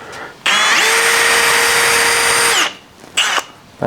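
A power drill with a dull Forstner bit bores into wood in a loud, close, sustained whine lasting about two seconds, followed by two short bursts of drilling.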